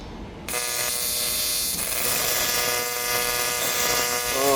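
An AC TIG welder works on aluminium with the tungsten not stuck out far enough, and the arc strikes with a sudden, harsh, steady electric buzz that continues loudly after a brief quiet start.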